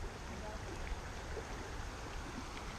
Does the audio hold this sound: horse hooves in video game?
no